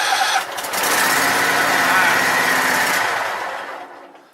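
A lawn tractor engine that has sat unused for about a month cranks and sputters, trying to start. A brief stutter leads into a sustained loud churning that fades out near the end, with a voice heard briefly.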